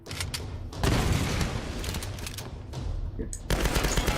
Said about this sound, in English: Have another grenade because it seems like you didn't die.